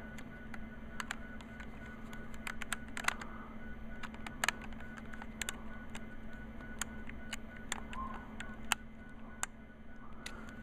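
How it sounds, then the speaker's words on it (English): A small screw is driven into an Athearn Genesis BNSF SD60M model locomotive, heard as faint, irregular tiny clicks and ticks of a screwdriver over a quiet room hum, with no talking. "So just gonna set that screw right in there, and then we'll screw this back in."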